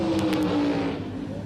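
A 1970s Plymouth Barracuda drag racing car accelerates down the strip, its loud, steady engine roar sustained throughout the run with no talk.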